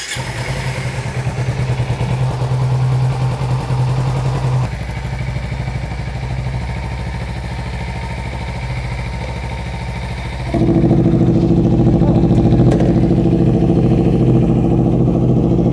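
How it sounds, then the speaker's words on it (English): A Kawasaki Ninja sport motorcycle engine with stock exhaust idles steadily at close range, then jumps to a louder, deeper running note partway through and holds there. "I am going to start the bike with the stock exhaust on"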